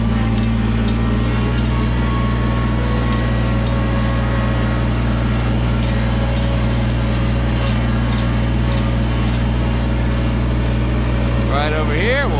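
Tractor engine idling while bags of dirt are loaded, a steady low droning hum with someone talking over it throughout.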